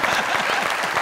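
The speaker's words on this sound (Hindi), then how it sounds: "मेकअप के लिए तालियां।" Studio audience of a comedy talk show breaking into brief, loud, dense applause, a short continuous burst of many hands clapping up close.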